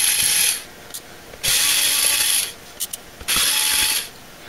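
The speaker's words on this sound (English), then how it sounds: "let's take these remaining screws out" Screws being backed out of an HP x360 2-in-1 laptop with a screwdriver, heard as three bursts of dry ratcheting clicks separated by short pauses, close and fairly loud with no talking.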